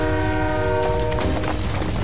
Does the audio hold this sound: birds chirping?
no